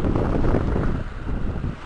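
Steady wind on a North Sea beach in Zeeland buffets the microphone with a low, rumbling roar, loud and continuous, easing slightly toward the end.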